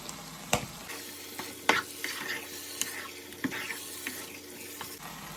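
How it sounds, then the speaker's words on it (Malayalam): Beef curry masala being stirred in a pan, with a spoon scraping and clacking in irregular strokes over a soft, steady sizzle, close and moderately quiet. "നമുക്ക് നന്നായിട്ട് ഇളക്കാമേ."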